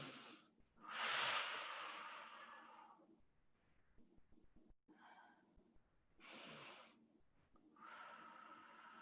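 Slow, deep breaths are drawn during a stretching exercise in a mobility workout, loud airy inhales and exhales in a few long pulls separated by quiet pauses, close to the microphone and without talk.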